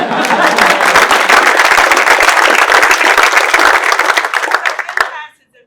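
Loud, dense applause from an audience at a state governor's event about a workforce investment, close and sustained for about five seconds before cutting off abruptly.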